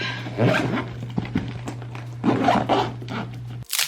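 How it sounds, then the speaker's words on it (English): A toiletry bag being zipped shut by hand, with several short scratchy zipper pulls at close range over a low steady hum, ending in a quick final tug. "Let's zip it up."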